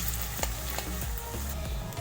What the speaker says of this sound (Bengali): এবারে পেঁয়াজটাকে ভালো করে নাড়তে হবে কিন্তু বেশি ভাজা ভাজা করা যাবে না